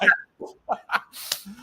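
A sneeze during a live baseball chat, a short sharp burst heard close among a few small vocal sounds, followed by a brief hiss.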